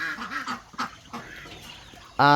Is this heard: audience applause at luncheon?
no